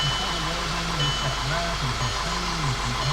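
A 2009 Volkswagen 2.0 TSI engine idles steadily up close after a PCV valve replacement, a constant low hum with no rev changes throughout.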